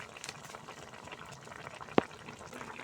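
Egg and brinjal curry simmering with a little water, chopped coriander and garam masala, giving a steady soft bubbling hiss throughout with one sharp brief clink near the end.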